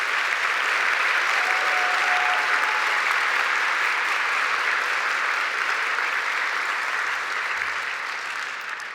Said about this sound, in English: And a round of applause for them